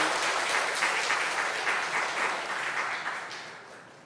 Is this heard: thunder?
no